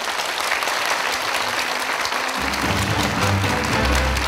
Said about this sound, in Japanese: 出演者の皆様に今一度大きな拍手をお送りください